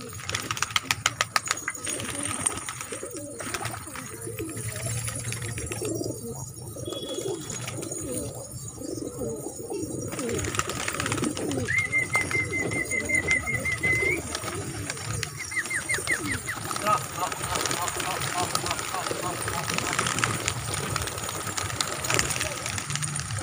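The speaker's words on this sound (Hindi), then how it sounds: "मद्रासी भी है, बहुत ही लाजवाब बहुत ही बढ़िया कबूतर है।" Madrasi and high flyer pigeons coo in soft, repeated throaty calls around a loft, with occasional wing flaps and people talking intermittently over the birds.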